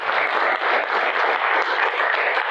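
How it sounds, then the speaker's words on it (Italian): A crowd breaks into steady, full applause that fills the room evenly throughout, with no voices standing out. "Un applauso."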